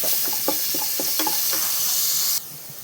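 Crushed ginger, garlic and green chilli fry in coconut oil with a steady close sizzle, while a spoon stirs and scrapes the pan in a quick series of clicks before the sizzle suddenly quiets.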